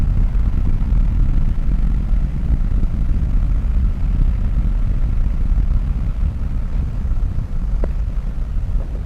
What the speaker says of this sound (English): we got a launch. But I cannot see it for all the cloud cover. But I sure can hear it.